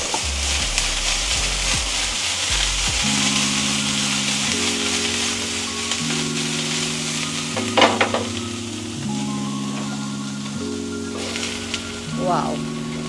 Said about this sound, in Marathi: आपण आधी यातलं फक्त पनीर सॉते करणार आहोत